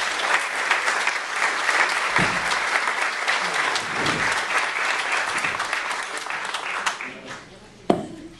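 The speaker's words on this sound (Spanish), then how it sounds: "Pediría para ellos un gran aplauso" An audience at a book presentation and lecture applauds in a long, steady burst of dense clapping that fades near the end, with a sharp knock just before it stops.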